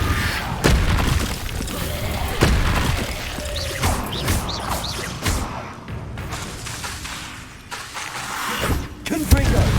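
A Confringo fire spell blasts off in Hogwarts Legacy, loud booming bursts and crashing impacts repeating through a busy, mechanical game battle soundscape.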